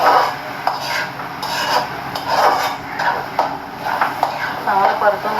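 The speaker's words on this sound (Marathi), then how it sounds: "तो घालून चांगला परतून घेते." Mutton masala spice paste being sautéed and stirred in a pan over a lowered gas flame, with steady scraping and rubbing strokes and a faint sizzle running throughout, close and moderately loud.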